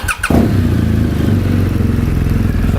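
A motorcycle engine idling close by after an LED brake light and turn signal upgrade, starting with a short cranking burst and then settling into a loud, steady, throbbing rumble.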